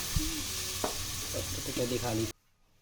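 Grated carrot drops into a hot pan tempered with fennel seeds, setting off a loud, steady sizzle with spoon scrapes and clinks over it, a voice briefly audible, before the sound cuts off abruptly near the end.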